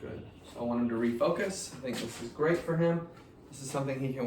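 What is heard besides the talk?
No everyday noise stands out behind the speech.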